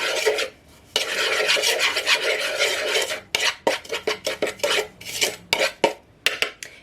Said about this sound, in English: And then I'm just going to mix this up.